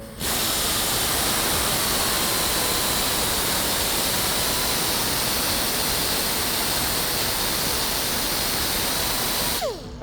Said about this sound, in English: taking a die grinder and grinding off the rivet